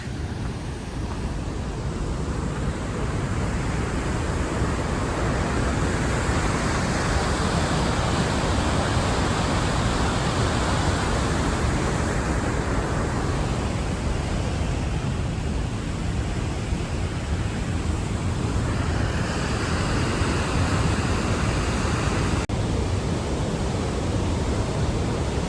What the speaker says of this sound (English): There is a waterfall.